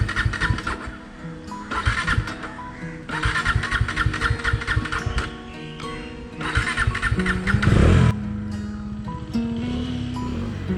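A motorcycle engine, a bike being tested against another in an abandoned quarry in Chennai, cranks and fires up by push-button start, then idles and revs loudly in bursts with no voices over it.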